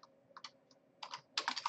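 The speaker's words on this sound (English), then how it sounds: "downside of typing so quickly, you end up deleting stuff you didn't want to delete" Fast typing on a computer keyboard comes in quick clustered bursts of clicks, close and fairly quiet, with brief pauses between the runs of keystrokes.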